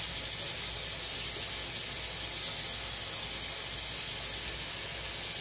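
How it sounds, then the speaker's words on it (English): A spoon rinsed under a running kitchen sink tap, giving a steady hissing stream of water that continues evenly throughout, close by and alone. "Let me rinse my spoon off now so I can use it for the sour cream."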